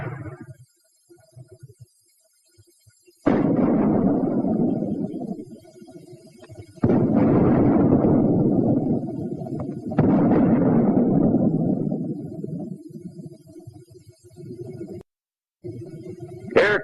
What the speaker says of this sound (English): The mortar also fires smoke shell.